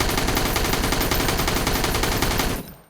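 Rifle in the Sunkenland survival video game empties a full magazine in one continuous burst of rapid automatic fire, loud and dense for over two seconds before cutting off abruptly.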